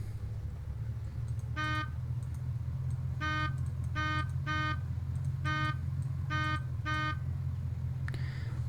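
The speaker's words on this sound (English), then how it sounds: "Honk, honk, honk." A white hatchback's horn in the game Unturned honks in short repeated bursts, six or seven toots of varying length over a constant low engine idle.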